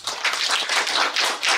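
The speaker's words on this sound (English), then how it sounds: "Can we clap for him?" An audience at a talk on AI and tourism claps briefly, a quick burst of overlapping hand claps in uneven pulses that stays close and fairly loud for under two seconds.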